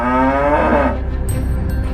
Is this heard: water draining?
no